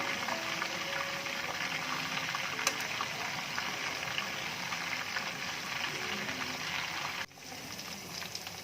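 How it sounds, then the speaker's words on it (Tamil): Prawns frying in a pan for a crispy prawn fry make a soft, continuous bubbling sizzle that is fairly quiet and close, and it dips near the end with no talk over it. "இப்போ நல்லா இந்த ப்ரான் ஃப்ரை ஆகிடுச்சு"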